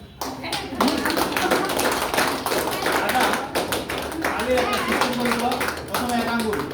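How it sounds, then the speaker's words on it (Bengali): An audience claps steadily at a life insurance business opening ceremony in Thakurgaon, a dense run of close hand claps with a speaker's voice over it. "তালি থামলো কেন? তালি দেন।"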